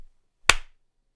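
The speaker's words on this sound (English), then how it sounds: "If I clap and go like this" A single sharp hand clap made for camera sync during an online tenor a cappella rehearsal, one close dry crack with a short tail in otherwise near silence.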